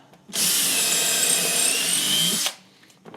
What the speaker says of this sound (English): This drill's losing its clutch.